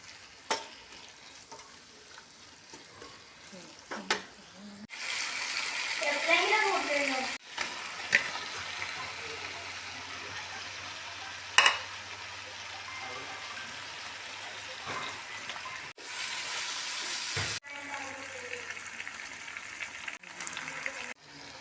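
A masala of crushed spices with turmeric and coriander powder sizzles and fries in a pan, with bursts of stirring and scraping rising over a steady crackle. A person talks at times.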